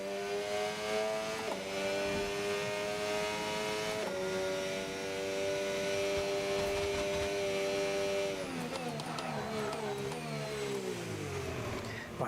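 Race car engine in a VR sim racing game, a steady low harmonic drone that shifts pitch with brief gear changes, then winds down under braking with chattering downshifts near the end; no talking.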